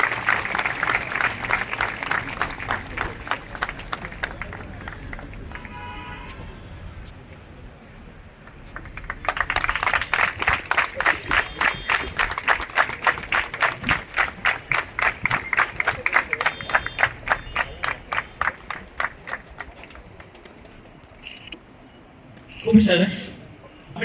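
Audience applause welcoming a guest at the 77th Gandhi Mela at Maliba College, with a long burst of dense, loud clapping. It pauses briefly, then swells again and tapers off, ending with a sharp thump.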